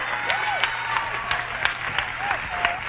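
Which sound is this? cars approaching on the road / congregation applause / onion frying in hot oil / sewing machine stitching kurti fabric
congregation applause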